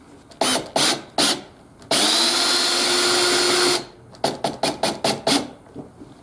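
Power drill driving screws into a boat shelf while fitting a Scotty triple rod holder: a few short whirring bursts, one long sustained spin of about two seconds, then a quick series of brief trigger pulses, close and loud.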